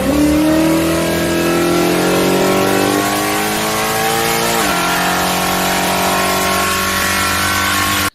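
A supercharged car makes a 12 psi boost run with a loud, close engine howl that climbs through the revs, dips briefly at a shift and climbs again. The roar is sustained throughout and no one talks over it.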